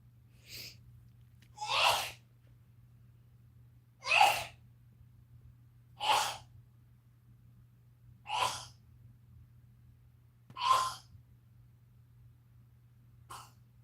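A woman sneezes repeatedly during a home live stream, about six sharp sneezes spaced roughly two seconds apart, close to the microphone, over a steady low electrical hum with no talking.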